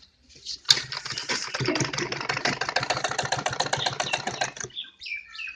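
A sewing machine running one continuous burst of fast, even stitching for about four seconds along a kurti collar, close and fairly quiet, a sharp click at the start and small handling noises after it stops.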